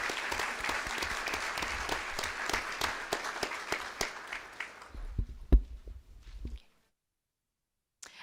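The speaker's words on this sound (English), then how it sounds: "let's give them a round of applause." Audience applause at a board meeting, many distinct hand claps rattling steadily, then thinning out to a few scattered claps before stopping into silence, with one last clap at the end.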